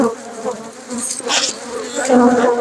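Honeybees swarm around an opened horizontal hive during an inspection, a steady close buzz that swells and thickens as agitated bees fly up toward the microphone.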